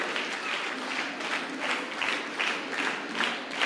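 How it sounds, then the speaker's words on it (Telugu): An audience at a youth day event applauds to welcome a father figure, steady dense clapping from many hands, continuous and fairly close, with no voices over it. "చప్పట్లతో తండ్రి గారిని ఆహ్వానం పలకడానికి ప్రయత్నం చేద్దాం"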